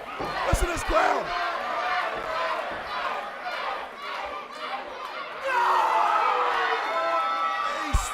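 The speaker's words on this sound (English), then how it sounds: "Listen to this crowd." Wrestling arena crowd at a Rumble Rumble 2k19 match, a steady roar of cheering and chatter with shouts rising and swelling louder partway through, voices blended into one continuous din.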